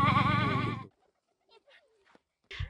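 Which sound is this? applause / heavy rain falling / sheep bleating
sheep bleating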